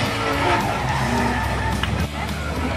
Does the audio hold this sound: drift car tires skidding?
yes